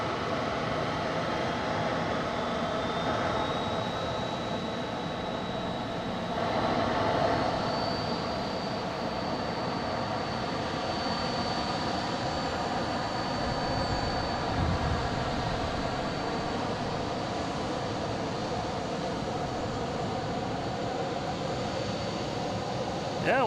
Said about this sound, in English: waiting for planes to take off